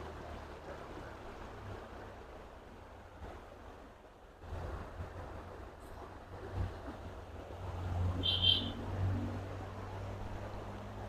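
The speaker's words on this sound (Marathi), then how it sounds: "पाण्याचा खूप सुंदर असा आवाज येतो" Stream water flowing through Tansa jungle in the monsoon season, a steady broadband rush heard up close with gusty wind on the microphone and no voices.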